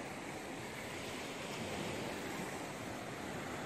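Ocean waves wash against a rocky, ledge-lined coast in Georgetown, Maine, at low tide, a continuous broad rushing roar of surf with some wind, steady and fairly loud with no talk.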